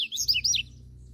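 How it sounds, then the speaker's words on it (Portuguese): A small bird chirps outdoors in a brief flurry of high, quick twittering notes near the start, then falls silent over a low steady background hum. "Tem um bocado de passarinho voando aqui"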